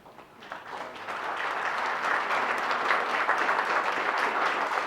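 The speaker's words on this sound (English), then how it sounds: "so we could give you a round of applause" Applause at a Purple Heart Day event in a veterans hall in Wenatchee, starting soft and swelling into a steady, sustained round of clapping from a sizable crowd.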